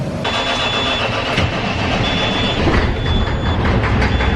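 The diesel engine of a grain cart tractor cranks and catches, then runs at a steady, loud rumble close by, with a faint intermittent beeping over it and no talk.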